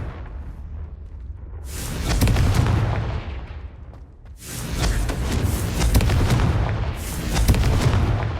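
Booming blasts from the Confringo fire spell in the Hogwarts Legacy video game, two loud explosive bursts with rumbling decay, one after the other several seconds apart, with no talking.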